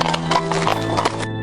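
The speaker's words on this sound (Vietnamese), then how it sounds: "tiếng vó ngựa cộc cộc truyền ra từ trong hang động" Horse hooves clip-clopping as a horse-drawn carriage emerges from a cave, loud and close, with hard rhythmic knocks over a busy layered sound bed that cuts off sharply just before the end.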